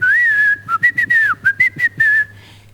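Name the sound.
whistle whistling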